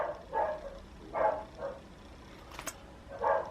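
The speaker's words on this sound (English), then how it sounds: "you hear my dogs?" Dogs bark in short bursts at a distance indoors, a few spaced woofs with quiet pauses between them.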